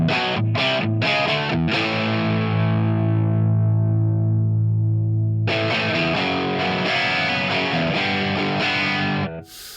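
An electric guitar is played through a 900 Drive amp capture on ToneX, producing a loud, distorted tone: a few choppy chords, then a long ringing chord that slowly decays before heavy strumming resumes.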